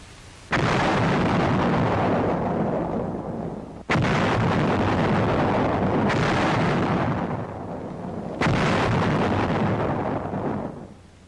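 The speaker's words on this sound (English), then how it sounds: "The mines are set off 10 to 20 at a time." Three massive WW2 mine explosions detonated in batches, each a deep booming blast with long rumbling decay, loud and close, going off at roughly four-second intervals with no speech.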